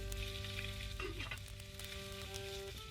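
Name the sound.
frying food in the video game Day R Survival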